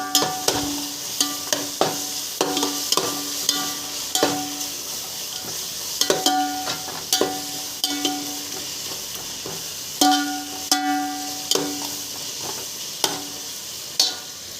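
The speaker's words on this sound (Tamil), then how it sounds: "ஒரு ஸ்பூன் இஞ்சி பேஸ்ட், ஒரு ஸ்பூன் பூண்டு பேஸ்ட் ஆட் பண்ணி நல்லா வதக்கிக்கோங்க" Ginger and garlic paste sautéing in a pan for plain biryani (kuska): soft steady sizzle with regular sharp clinks and scrapes of a spoon stirring, close up and without speech.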